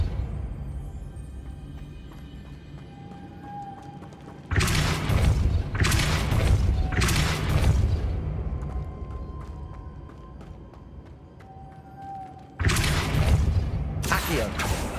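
The Depulso spell goes off in the Hogwarts Legacy video game with a burst of heavy booming thuds that comes in two clusters against quieter game ambience.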